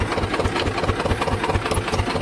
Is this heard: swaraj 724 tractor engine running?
yes